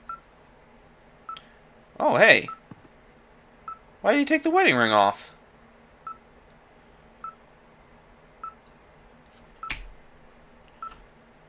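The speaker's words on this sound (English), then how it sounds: "And the wave receiver is beeping." A wave receiver in the video game Firewatch gives short, faint electronic beeps at regular intervals, separated by long gaps, while voices talk loudly between them.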